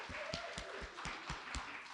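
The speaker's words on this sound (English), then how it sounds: "Big round of applause for Ewan." Applause from an audience at a welcome event, honoring a team member named Ewan, with steady clapping and irregular louder claps throughout, fairly close and continuous.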